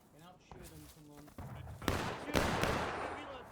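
Musket volleys in a War of Rights Civil War battle, Hatch's Attack map: several sharp reports burst out mid-clip over a dense, noisy battlefield din, with voices talking earlier.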